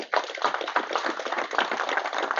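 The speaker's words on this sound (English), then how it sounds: "Let's give them another round of applause, please." Audience at a college Veterans Day program clapping for speakers, a brief close burst of many hands with a choppy, uneven rhythm.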